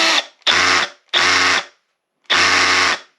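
A Milwaukee M12 Fuel SDS hammer drill, switched into hammer-drill mode during a repair, runs in four loud, close bursts of roughly half a second each, separated by short silences.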